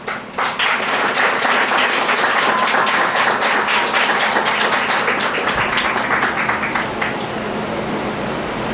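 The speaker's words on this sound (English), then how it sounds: "applause." Wedding guests at a Jacksonville Beach celebration give the newlyweds a round of applause, dense and loud for several seconds before thinning into scattered claps and fading under a lingering background hiss.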